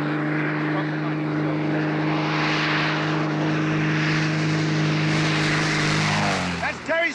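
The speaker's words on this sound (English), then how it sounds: "That's Terry's plane!" A propeller airplane drones loudly overhead in a radio drama, its engine roar swelling steadily over several seconds and then dropping away sharply at the end as it passes.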